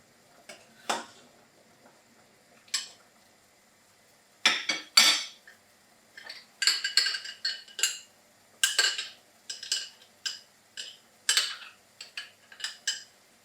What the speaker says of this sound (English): lightly scoop out a few with quite a lot of soup into a bowl for serving